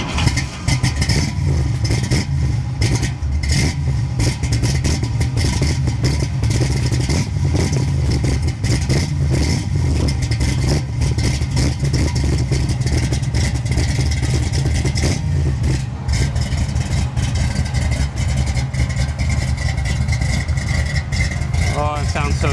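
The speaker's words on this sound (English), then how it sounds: "Very choppy V8 454, and I'm excited to hear it." Big block 454 V8 in a silver 1968 Camaro idling roughly with a choppy, loping rumble and occasional revs, loud and close, with people talking over the engine.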